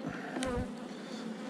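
Close, steady buzzing of honeybees around an open hive, a dense insect drone with one brief louder pass.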